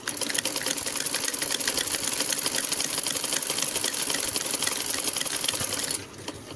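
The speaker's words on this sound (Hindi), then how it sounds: "और इसके बाद सीधी स्टिचिंग करनी है।" A sewing machine stitches blouse pieces in a fast, steady mechanical patter that runs unbroken at close range before stopping near the end.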